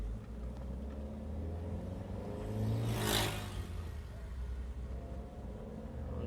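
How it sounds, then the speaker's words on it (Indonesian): A Daihatsu Terios picks up speed on a fairly smooth road, its engine rumble swelling to a louder peak around the middle before settling back into a steady drone. "Sekarang akan saya coba cek akselerasinya. Di jalan yang agak mulus."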